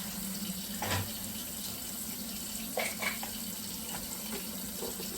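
A garlic powder shaker is rinsed under a running kitchen tap, with a steady stream of water and a few soft knocks and splashes as the container is handled in the sink.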